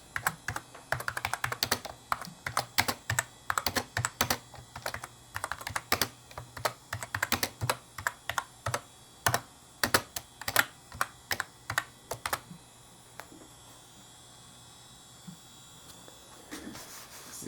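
Steady typing on a Power Mac G4 Cube keyboard, close and crisp, with quick bursts of keystrokes for about twelve seconds before it goes quiet, followed by a few faint clicks near the end.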